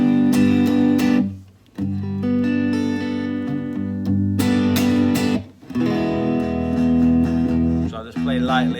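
A Fender Stratocaster on its neck pickup, run through a pedalboard into a Boss Katana amp with a clean dry tone, rings out sustained notes and chords in a few phrases separated by short pauses, loud and close with no talking.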